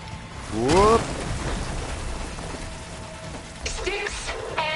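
Stormy weather in the video game Horizon Forbidden West: steady rain hiss with rumbling thunder beneath, a brief whooping creature-like call early on and bright electronic tones near the end.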